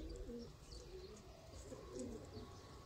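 Soft, low cooing of Sialkoti pigeons repeating in gentle phrases, with faint chirps and a quiet background hum.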